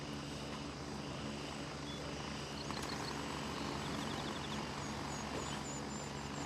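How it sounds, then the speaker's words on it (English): A helicopter in the video game Gray Zone Warfare drones steadily with a rotor hum at moderate distance, fairly faint and continuous, with a few small ambient chirps over it and no talk. "And I'll bet you that helicopter that I hear now is him coming back out."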